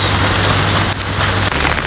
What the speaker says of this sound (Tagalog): Napakalakas pa rin ng ulan guys.